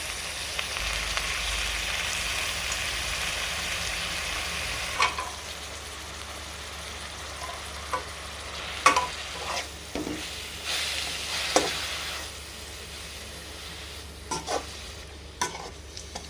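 Beetroot and onions stir-frying in a pan for beetroot poriyal, an even close sizzle running throughout, joined later by a series of spatula scrapes and taps as the vegetables are tossed.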